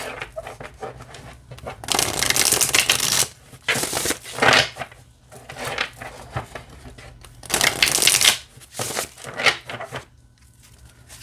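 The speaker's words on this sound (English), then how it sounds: "Yeah, it shuffles really nicely." Tarot cards are shuffled in several bursts of rapid, papery riffling, loud and close, separated by brief pauses and softer handling sounds.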